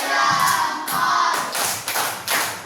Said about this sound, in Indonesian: kita kasih tepuk jempol lagi untuk kelompok Rara